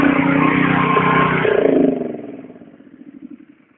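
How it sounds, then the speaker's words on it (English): A gas-powered pressure washer engine, used for house washing and sidewalk surface cleaning, runs at a steady buzzing drone and is then shut off, its note sagging and sputtering down over a couple of seconds into silence. "let me cut this pressure washer off."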